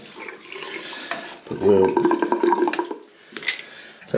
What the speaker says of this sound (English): So we've turned the water back on.